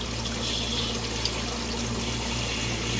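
Water runs steadily into an aquarium through a float valve, a continuous hissing, splashing flow heard close and alone, with a low hum beneath it.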